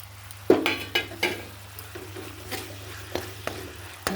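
Asafoetida goes into a spice paste frying in a pan, with a steady low sizzle and several sharp scrapes and clinks of a utensil stirring at close range, no voices.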